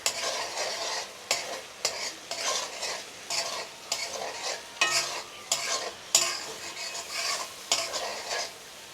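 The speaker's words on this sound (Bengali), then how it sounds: "এখন আরও কিছুক্ষণ ভেজে নেব।" Turmeric and chili powder fry in a hot pan while a spoon stirs them, with rhythmic scraping strokes over a constant close sizzle and no voices.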